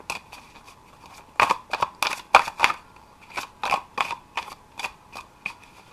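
Tarot cards being shuffled give crisp, irregular bursts of riffling and snapping, close and fairly quiet, in a calm setting with no talk.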